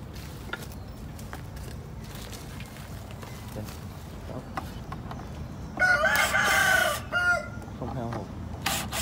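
A rooster crows once loudly at a beehive farm in Cần Giờ, standing out over steady outdoor background noise and scattered rustling, with a short clucking tail after the call.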